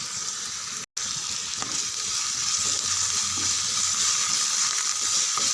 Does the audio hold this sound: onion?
yes